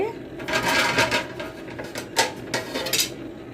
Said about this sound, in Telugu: మూత పెట్టేద్దామండి